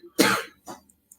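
A single sharp cough, followed by a smaller throat-clearing burst and a couple of faint breathy sounds, close up in a quiet room.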